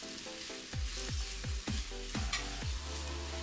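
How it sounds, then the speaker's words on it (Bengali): Ginger, garlic and green chili pastes frying in a pan for a traditional egg korma, with a loud continuous hiss and a run of quick rhythmic spatula strokes, close and with no one speaking. "এবার একে একে বাটা মশলা দিয়ে দিচ্ছি। আদা বাটা দিয়ে দিলাম আধা চা চামচ"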